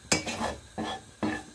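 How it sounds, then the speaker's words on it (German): A utensil pushes toasted desiccated coconut across a pan in three distinct scraping strokes, each a close, gritty rasp followed by a brief pause. "Und jetzt schiebe ich sie erstmal an den Rand,"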